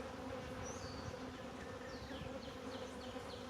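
Honey bees buzzing steadily at an open beehive, a dense, continuous close drone with individual bees zipping past, faint overall and without talk.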